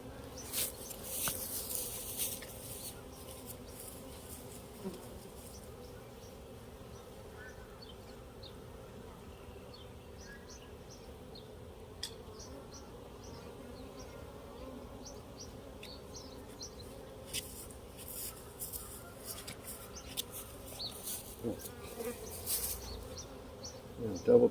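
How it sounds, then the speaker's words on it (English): Faint, steady buzzing of bees around hives in a treatment-free backyard apiary, a low hum running throughout with a few brief louder passes near the microphone and occasional birdsong in the background. "I know we're not going to get all the bees to stay here, but maybe we'll get some."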